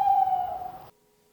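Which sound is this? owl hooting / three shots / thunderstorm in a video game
owl hooting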